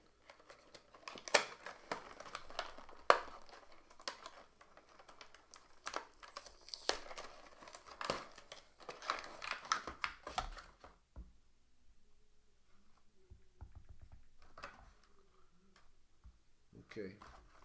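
Rapid, irregular clicking of a computer keyboard plays close by for about ten seconds. It is dense and uneven, then drops away to near silence with a few scattered clicks and light handling sounds.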